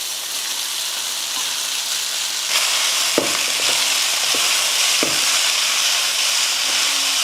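Roasted vermicelli (semiya) tipped into a frying turmeric tempering with peanuts and dal, producing a loud steady close sizzle, with a few sharp spoon knocks and scrapes against the pan as it is stirred.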